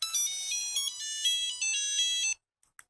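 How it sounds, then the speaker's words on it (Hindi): A mobile phone ringtone plays alone for about two seconds as a bright, repeating electronic melody, then cuts off into near silence with a few faint clicks. "तभी उदय को मोबाइल पर नरेश का फोन आया"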